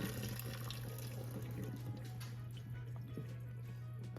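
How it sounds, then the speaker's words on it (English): Water draining from a pot of cooked spaghetti noodles, a soft trickle and splatter close by over a steady low electrical hum. "try draining the noodles this way instead of dumping them in the strainer"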